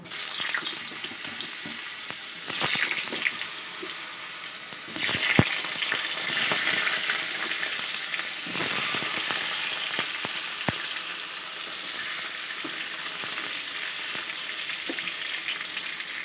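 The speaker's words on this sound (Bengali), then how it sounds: "বেগুনগুলো ভাজার সময় সামান্য একটু নুন দিয়ে দিলাম ও একটু সামান্য একটু হলুদ দিয়ে দিলাম।" Eggplant pieces fry in hot oil left over from frying pabda fish, seasoned with salt and turmeric, giving a steady, close, loud sizzle with occasional sharper crackles and spits and no talking.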